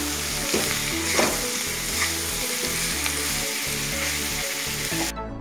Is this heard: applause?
no